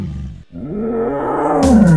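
A tiger lets out a loud, close, sustained roar that swells and rises in pitch over about two seconds, heard alone in a children's animal song.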